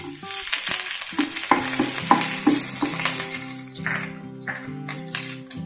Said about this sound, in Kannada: ಮೆಣಸಿನ್ಕಾಯಿ ನೀಟಾಗಿ ಫ್ರೈ ಆಗ್ತಾ ಇದೆ.